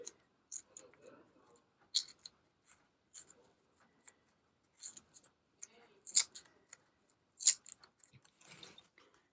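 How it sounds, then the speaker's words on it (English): Paper is ripped by hand in a studio setting, short crisp tearing bursts coming in separate pulls a second or two apart, close and fairly quiet with small rustles between. "Okay, so I've got to rip it this way."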